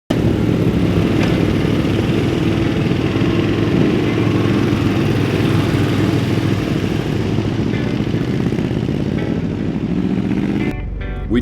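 Several motorcycles, including an Aprilia Tuono 1100, a BMW F800GS and a Ducati Panigale 959 Corse, rumble together as a group ride sets off. The loud, dense mix of engines holds steady close by, then drops at the very end.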